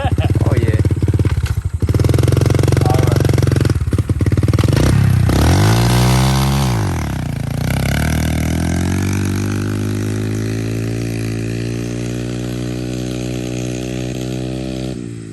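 A two-stroke pit bike engine revs hard and loud up close, its pitch climbing and dropping in sweeping surges before settling into a strained, rising drone.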